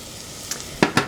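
Chopped onion drops into melted butter in a soup pot, a soft low sizzle with a couple of sharp brief crackles and scrapes near the end, close and quiet.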